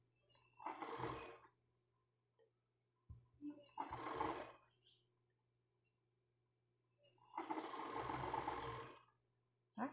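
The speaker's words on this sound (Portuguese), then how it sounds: "Encaixa a peça dentro do viés, dá uma puxadinha, segura firme e costura" Domestic sewing machine stitching bias binding onto lace panties, running in three separate bursts of about a second or more each with quiet pauses between, close and moderately loud.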